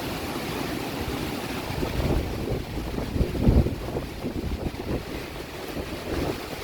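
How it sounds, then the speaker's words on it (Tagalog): Strong wind roars and buffets against the microphone continuously at a beach, with gusts swelling and a heavy rumble, and waves faintly beneath. "Grabe kalakas ng hangin guys"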